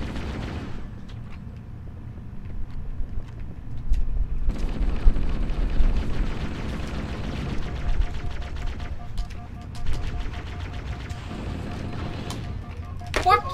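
Gunfire and grenade blasts in the Halo 1 video game played split screen: dense bursts of shots and booming explosions, loud and continuous, with a person talking over the action.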